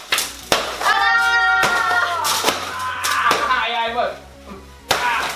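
Sharp blows strike a cardboard piñata at a Mexican-style party, several loud hits spaced across the moment as it splits open, with excited voices and shouting throughout.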